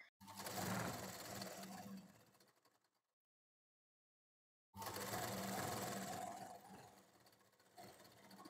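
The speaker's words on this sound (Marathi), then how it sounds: "आता हे आपण असं उलट्या बाजूने आधी शिलाई मारून घेणार आहोत" Sewing machine stitching baby frock fabric: a loud, close, fast rattling run for about three seconds, a stretch of silence, then a second long stitching burst that eases slightly toward the end.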